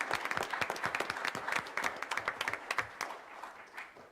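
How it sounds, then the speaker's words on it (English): Applause from a board meeting audience honoring a congratulated person, a steady patter of many hands clapping at moderate distance with distinct individual claps standing out, fading slightly toward the end. "Let's give him a round of applause."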